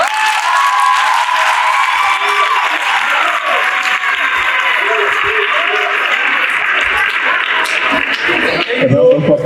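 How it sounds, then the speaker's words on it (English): Loud audience applause at a human rights public lecture at a university, continuous clapping from a sizable crowd with some chuckles and voices mixed in, swelling slightly at the end. "A round of applause."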